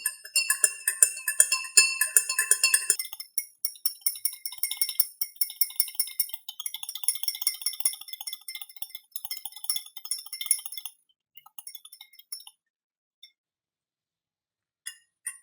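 A spoon stirs soy sauce into water in a glass chemistry beaker, ringing in rapid bright clinks that thin out into sparse taps and then stop.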